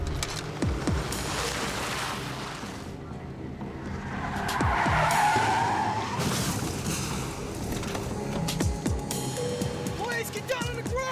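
A car skids during a police pursuit of fugitives in New Mexico, a sustained tire screech rising mid-clip over engine noise and road rumble, with other vehicles and speech-like sounds around it.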